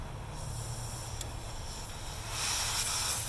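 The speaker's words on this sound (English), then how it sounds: "That's the hissing sound you're hearing" Refrigerant hisses steadily from a punctured copper line on an air conditioner, a continuous broadband rush with a low hum beneath, swelling louder and brighter near the end, close and with no talking.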